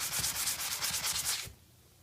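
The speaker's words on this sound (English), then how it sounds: "I'll take this sponge and very lightly and dry, I'll go over that spot there" Quick, rhythmic rubbing strokes, dry and scratchy, as a dry sponge is run lightly over silicone caulk on a tub, repeating for about a second and a half and then stopping abruptly.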